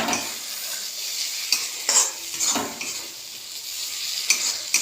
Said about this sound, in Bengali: আরও অনেকটা পরিমাণে তেল ছাড়া পর্যন্ত আমাকে এটা কষাতে হবে আস্তে আস্তে আঁচ দিয়ে